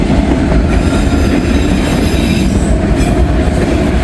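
A freight train rumbles past close by, loud and continuous, with rattling cars and faint wheel squeal over the steady roar.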